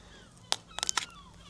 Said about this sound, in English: seagulls are out today watching us